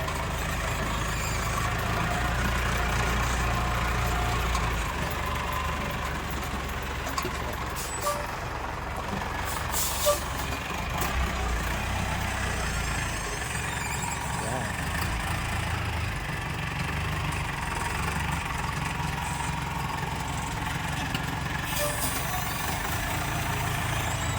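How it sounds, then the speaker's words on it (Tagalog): A car engine runs at a practical driving course while the driver parallel parks, producing a steady, close, low idling rumble with slight shifts in tone and no talking. "So parallel parking naman po ang gagawin ni Sir."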